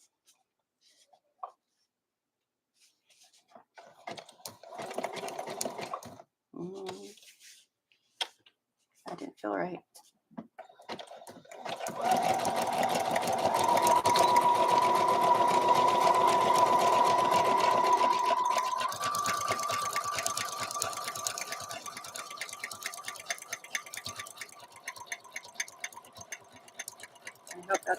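A sewing machine runs a zigzag embroidery stitch in a long, steady mechanical whir. Brief bursts of stitching and handling noises come first, and a person talks before and during the sewing.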